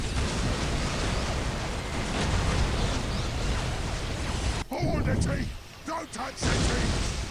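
Missile turrets fire in a Warhammer 40,000 battle game as a dense, continuous roar of blasts and explosions. A brief break near the end leaves softer scattered pops before the barrage resumes.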